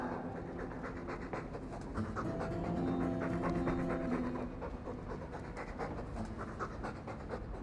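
A dog in the video game Dragon Age II pants steadily and rhythmically up close for several seconds, quick breaths repeating over a soft ambient background with no talking.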